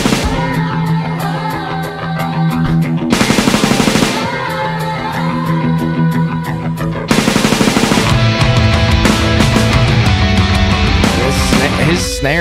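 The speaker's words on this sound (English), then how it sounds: "His snare is like a little machine gun" Snare drum firing off rapid, machine-gun-like rolls during a live rock band cover, loud bursts of drumming over guitars and other instruments.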